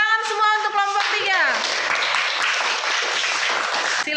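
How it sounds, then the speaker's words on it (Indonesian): Students in a classroom break into sustained applause for a group just after a teacher's voice stops, the clapping dense and steady to the end. "tepuk tangan semua untuk kelompok 3"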